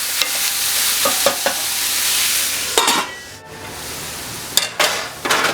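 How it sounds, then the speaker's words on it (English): Mushrooms sizzle steadily in a pan, a continuous bright frying hiss broken by several sharp stirring scrapes and knocks of a utensil against the pan, with no one talking. "I'm going to cook these mushrooms up."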